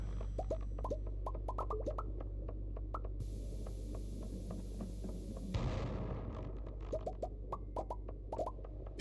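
Bombs going off while mining in Stardew Valley, a loud dense burst of blasts clustered mid-clip, set among many short sharp clicks and pops over a steady low game hum.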